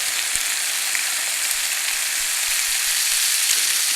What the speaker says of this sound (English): I got them hot so they're nice and crisp. See the sizzle?